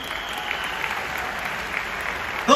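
Loud, steady applause fills a large audience hall at a business meeting, dense and continuous throughout, with a brief louder burst at the very end.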